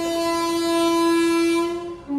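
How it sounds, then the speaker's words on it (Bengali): An Indian Railways Ganadevta Express 13017, running with new LHB coaches, sounds a long, steady horn blast that holds loud and unbroken before cutting off, followed by a brief second tone. "তো আইসেফ থেকে ট্রেনটা দীর্ঘ এত বছর পরে এই ট্রেনটা এলএইচবি কোচে মডিফিকেশান করা হয়েছে"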